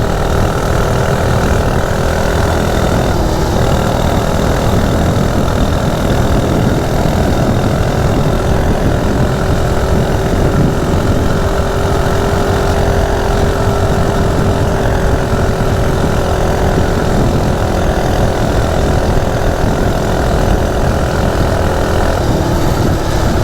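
A Coleman CT100U minibike engine with its governor removed revs hard and steadily, a loud, close, buzzing drone that holds at high speed with slight wavering for the full duration.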